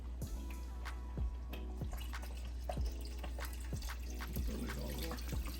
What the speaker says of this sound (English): We'll probably start adding some water here to it as well.